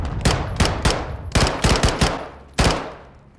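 Rapid bursts of gunfire ring out in Modern Warfare 2 played in third person, loud close shots in short uneven clusters with echoing tails and a final single crack.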